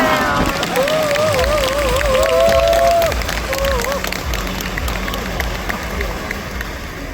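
Audience applause and cheering welcome a speaker onto the stage at an Atomy network-marketing speech event, a dense sustained crowd roar with a high, wavering tonal sound riding above it for the first few seconds before settling.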